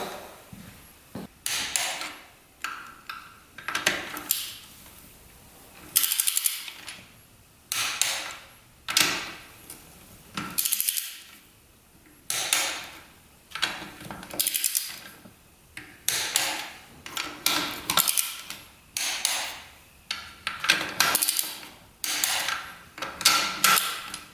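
Bolts on a Yamaha YFZ 450 race quad are retightened with a wrench to 14 foot-pounds, producing repeated close ratcheting clicks and metallic tightening bursts in a steady rhythm, without talking.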